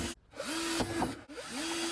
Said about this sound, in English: Pull back the fender liner and drill the holes.